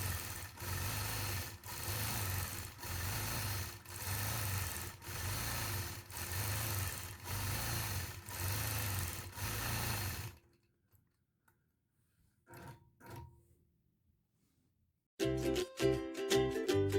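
A sewing machine stitches straight quilting lines in rhythmic, pulsing bursts of close motor whir for about ten seconds, then falls to near silence with a few faint clicks before other sound resumes.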